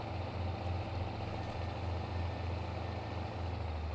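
A John Deere tractor in Farming Simulator 22 idles steadily, its low engine drone a continuous, even rumble with a slight pulsing throb throughout.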